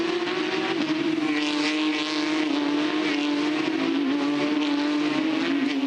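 Loud Porsche Carrera Cup race cars scream at high revs at Bathurst in a steady, continuous roar, with a slight rise and fall in pitch as they run.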